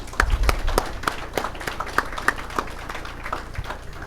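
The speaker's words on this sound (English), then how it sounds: "give them a round of applause" Audience applause for the families of firefighters at a fire department promotional ceremony in Montclair, a scattered run of individual claps rather than a dense ovation, moderately loud and close, fading slightly toward the end.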